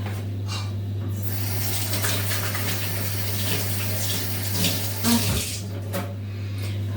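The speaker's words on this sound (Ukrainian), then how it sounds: "Помию руки." Water runs steadily from a tap with small shifts in splashing, as if hands are moving under the stream. No one speaks.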